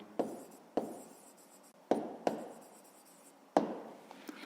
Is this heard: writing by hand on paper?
yes